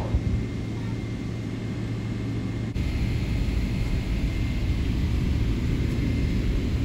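An Emirates airliner takes off from runway 07 at Chennai. A steady, loud engine roar with broad rumble jumps in power about midway and then holds a constant full-thrust drone.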